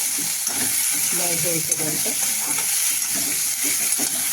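Green tomatoes, green chillies and garlic cloves sautéing in a pan for chutney, with a steady loud sizzle and occasional stirring clinks throughout.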